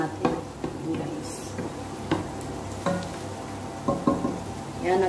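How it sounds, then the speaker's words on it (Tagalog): Garlic and onion sauté in a pan with a soft, continuous sizzle, broken by scraping stirs at irregular intervals, fairly quiet and close, with a voice speaking faintly in the background. "Susutayin natin siya ng maayos hanggang sa mag-ready yung garlic at saka yung onion natin."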